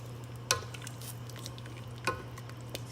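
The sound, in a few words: stirring potatoes cooking in water in a pot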